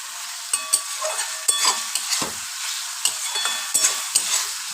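Pumpkin fritter curry frying in oil in a pan, steady bright sizzling broken by repeated spoon scrapes and stirring knocks, close and fairly loud, no voices.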